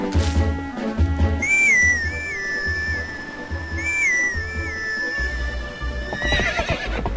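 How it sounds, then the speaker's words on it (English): A horse-call whistle in Zelda: Twilight Princess: a bright melodic whistle tune played twice over game music and clip-clop hoofbeats, fairly loud and clear. "Horse call."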